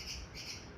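Bulbuls calling around a water bowl set out for them, with a steady stream of bird chirps and squawks that sound close and moderately loud, with no talking.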